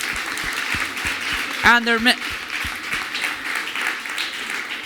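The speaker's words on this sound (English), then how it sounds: "I want to get a big applause for their teacher, Alejandro Barchin." Audience clapping for a teacher at a kids' competition on an outdoor playground stage, with steady applause running underneath while a voice briefly speaks over it near the middle.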